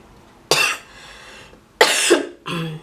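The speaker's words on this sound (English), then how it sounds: "I'm sorry, I have cough." Three harsh coughs close to the microphone, the first short, then a longer rasping one and a final softer cough, with quiet room tone between.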